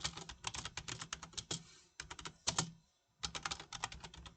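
Quick, close clicking on a computer keyboard comes in rapid bursts with short pauses between them, fairly faint and with no talking.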